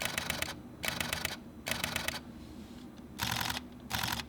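Fujifilm X-T20 mirrorless camera shutter in continuous high burst mode, five short bursts of fast, crisp mechanical clicking heard up close, separated by brief silences over a faint background hiss.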